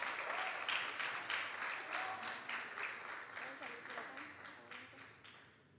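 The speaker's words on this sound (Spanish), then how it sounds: "Vamos a regalarles un fuerte aplauso a estos aliados importantes para Vita." Sustained applause from an audience at a project results presentation, steady clapping from a crowd with faint voices underneath, slowly tapering off.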